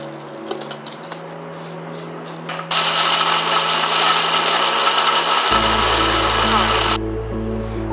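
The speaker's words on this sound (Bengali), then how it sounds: "এবার আমি ফোড়নের জন্য ছোট এলাচ, দারচিনি, লবঙ্গ, গোলমরিচ সব একসঙ্গে করে একটু সামান্য গুঁড়ো করে দেবো।" Whole cardamom, cinnamon, cloves and black pepper ground together in a kitchen grinder for a chicken curry, a loud steady whirring roar that runs for about four seconds alone before cutting off, with a lower motor hum underneath.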